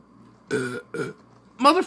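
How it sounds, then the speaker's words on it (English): A single loud burp rings out near the end, preceded by two short voiced bursts, sharp and close. "Let's get a burp going."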